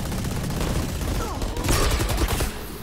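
Gunshots in Valorant crackle in a dense volley of rapid shots over a steady game backdrop, growing louder near the end before easing off.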